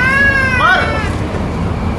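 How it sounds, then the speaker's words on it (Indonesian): A cat meows near a boat while goats are being couriered, one rising and falling call early on, with voices talking around it. "Lah kucing, Mor."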